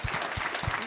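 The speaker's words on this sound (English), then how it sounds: "Let's give Sonia a round of applause." Audience at a roundtable economic outlook event in Ottawa gives a round of applause, a brief, fairly faint patter of clapping.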